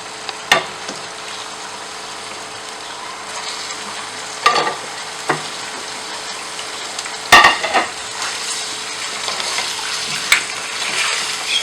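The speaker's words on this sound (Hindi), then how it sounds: "सबसे पहले हम ऑयल में डालेंगे चिकन" Chicken fries in hot oil in a karahi, a continuous crackling sizzle with occasional clanks and scrapes of a ladle against the pan as it is stirred.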